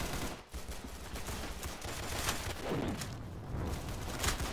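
Video game gunfire in a golden gun match, a dense continuous fusillade of overlapping shots rattling on without pause, loud and close throughout.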